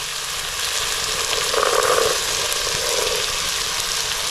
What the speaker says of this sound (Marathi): मटार असे परतवून घेऊया